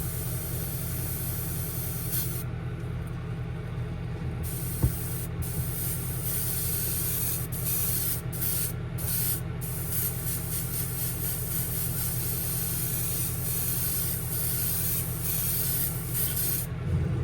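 An airbrush or spray gun sprays paint over the back of a Chimera Shad fishing lure, making a steady, continuous hiss that runs the whole time, close and fairly loud, with a few short breaks at the top and no speech.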